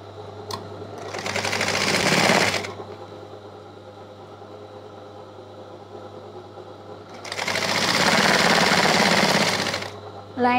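Sewing machine stitching a dress lining, running in two loud bursts of rapid whirring stitches separated by a quiet pause with a low background hum, heard close up.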